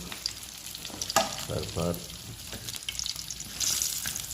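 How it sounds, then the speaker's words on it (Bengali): Eggplant frying in a hot pan, a steady close sizzle with occasional stirring clatter and bursts of spattering oil; a brief word is spoken. "বেগুন এইভাবে ভাজবেন"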